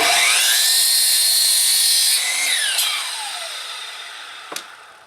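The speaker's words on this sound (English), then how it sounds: "I have the saw set up at 15 degrees and I have a stop block at this end controlling the length of my cut" A power saw set to a 15-degree angle cutting a wooden outdoor chair leg: a loud, steady high whine that winds down and fades, followed by a brief sharp tap near the end.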